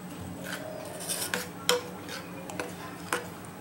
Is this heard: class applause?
no